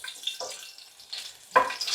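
Garlic fries in a pan for a tomato pasta, giving soft, close sizzling that rises in short bursts, with the loudest burst near the end, and it is quiet in between.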